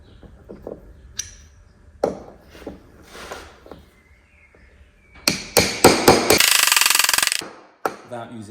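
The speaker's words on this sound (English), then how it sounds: "Pop them on your bearing, and you can hit them in properly." A steel bearing driver disc struck with a hammer to seat a bearing: scattered single metallic knocks, then a fast run of loud, ringing blows that ends abruptly, followed by one last hit.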